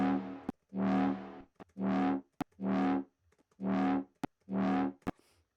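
A bass synth with reverb plays six sustained notes in a steady rhythm, each with a short ringing tail, separated by sharp clicks and brief gaps.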